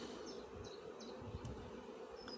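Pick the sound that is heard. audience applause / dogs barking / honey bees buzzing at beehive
honey bees buzzing at beehive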